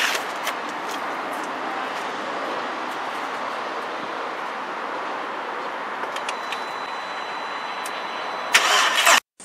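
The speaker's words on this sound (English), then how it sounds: "So now I'm going to crank it over, and let's see whether it drops below 10 volts." Audi A3 engine cranking steadily on a weak battery, a loud continuous churning strain running for about nine seconds before a brief louder burst and sudden stop.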